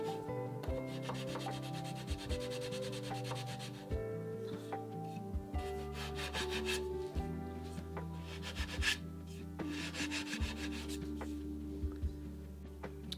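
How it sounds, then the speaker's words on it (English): A sanding stick rubs back and forth across a wooden boat frame during a Catalina Wherry build, steady close scraping strokes with music playing underneath. "I'm just going to use a sanding stick here to just try and knock that down a hair."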